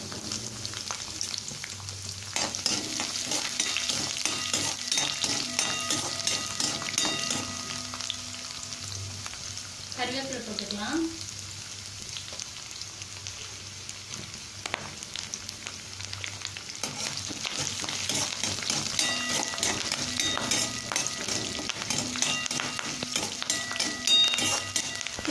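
Chana dal and chopped garlic fry in a pan with a steady, close crackling sizzle that holds for the whole stretch, broken by a brief squeak midway.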